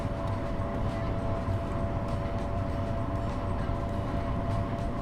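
A diesel passenger train in Train Sim World 4 on the Harlem route rumbles steadily as its engine roars up, a dense continuous drone with a faint steady whine, no voices over it.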